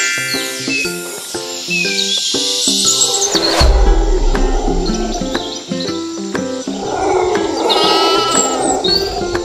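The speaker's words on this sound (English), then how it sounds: "Goat." A goat bleats over continuous cheerful background music with bird chirps, the bleating blending into the busy musical backing throughout.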